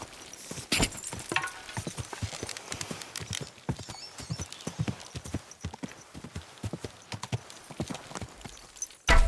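Horse hooves clip-clop in a rapid, uneven rhythm in the video game Kingdom Come: Deliverance 2 during a horse race, fairly close and continuous, with a louder thump at the very end.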